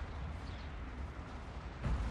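Cannon fire rumbles from the Total War: Fall of the Samurai battle, a faint, distant low boom over steady battlefield noise, with a heavier thump near the end.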